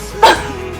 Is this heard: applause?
no